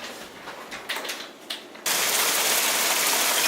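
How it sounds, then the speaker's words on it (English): Heavy rain following hail, heard from indoors: scattered sharp taps and patters give way abruptly to a loud, dense, steady roar of downpour that continues to the end. "That's just turned into pissing down rain."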